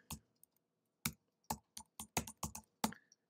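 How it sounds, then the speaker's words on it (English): Keys clacking on a computer keyboard while a document table is edited, in short irregular bursts of close, crisp taps with brief pauses between, no talking. "type in system"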